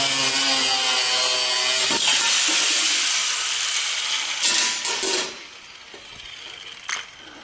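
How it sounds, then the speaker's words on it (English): Cutoff wheel grinding through a piece of rebar, a loud close high-pitched whine and rasp that fades as the cut finishes, followed by a few scraping touches of the spinning wheel. "Grab my cutoff wheel"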